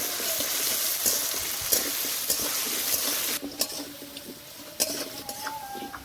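Potatoes frying in a pan with salt and turmeric make a close, continuous sizzle that is louder at first and then settles, with several sharp clicks and scrapes as a spatula stirs them.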